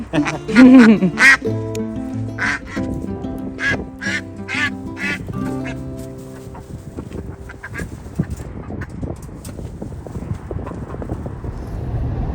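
Several ducks quack loudly and repeatedly up close, the calls thinning out into rustling and scuffling noises toward the end.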